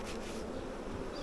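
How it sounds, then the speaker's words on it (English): Many honey bees fly around a swarm, their buzzing forming a continuous, even hum that stays close and low in volume throughout. "there's obviously a lot of bees that are flying around also at this time"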